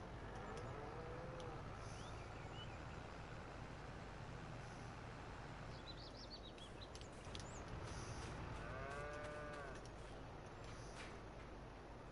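Cattle low and moo in the Farming Simulator 22 game on the Calmsden Farms map, a couple of drawn-out calls rising over a steady, loud hum of farm machinery and engine noise.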